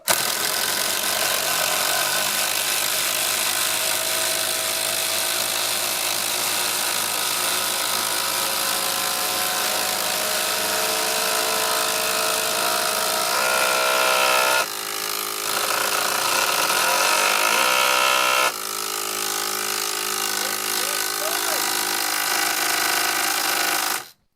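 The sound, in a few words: Makita 12V impact driver driving batten screws into wet pine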